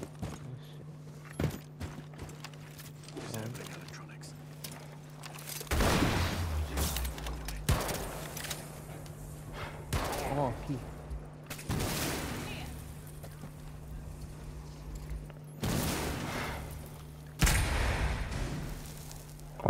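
Gunshots and bursts of gunfire from a Rainbow Six Siege match ring out at intervals over a steady background hum, mixed with footstep-like thuds, while players talk over them.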